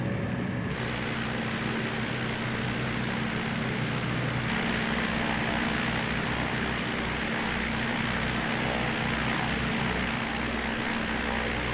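A simulated airplane takes off in Microsoft Flight Simulator, its engine a loud, steady drone with broad rushing noise that holds throughout, with no talking.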